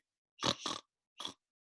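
Two quick grunting oinks and then a third short one, close and fairly quiet, with silence between them.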